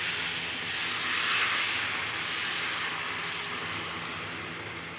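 Dhirde batter poured onto a hot griddle gives a steady, bright sizzling hiss, continuous and fairly loud, slowly fading toward the end with no voices.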